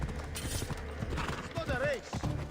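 Horse hooves clip-clop at a slowed pace through congested city streets in Assassin's Creed Odyssey, rhythmic close thuds with a brief whinny partway through, while a person talks over them.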